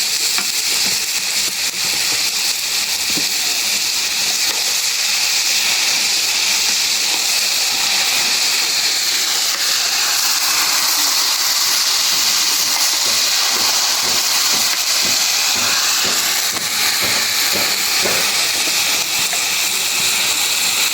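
Taro sizzles in a pan with garlic, onion and chili, a steady loud hiss of frying oil with faint scraping and stirring sounds throughout.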